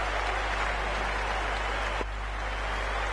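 A steady crowd applauds without a break at a Cricket 19 video game match, a T20 Blast knockout between Yorkshire and Surrey, as a loud, even wash of clapping.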